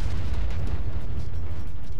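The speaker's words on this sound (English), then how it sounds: "Here we have that special explosion respawn effect enabled." Constant loud, heavy rumbling blast noise runs all the way through, like a burning vehicle explosion effect in a multiplayer video game mission, dense and low with no talk.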